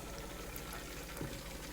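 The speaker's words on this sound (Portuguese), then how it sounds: "Vou colocar o microfone perto. Ainda tá fritando aqui, ó." Pork belly (panceta) frying in an air fryer, heard up close as a steady crackling, bubbling sizzle with a brief louder pop near the end.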